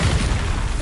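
Bombarda blast spell in Hogwarts Legacy, a dense continuous low boom lasting under a second, loud and close with a rumbling roar.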